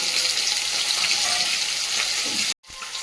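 Chopped garlic goes into a pan of crab frying in ghee, giving a continuous loud sizzle and spatter that cuts out abruptly near the end before resuming.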